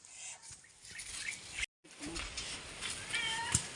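A hungry pet owl gives short, rasping, cat-like screeches close by outdoors, with a brief gap between calls and soft background noise.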